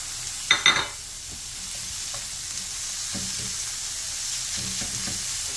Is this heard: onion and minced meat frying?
yes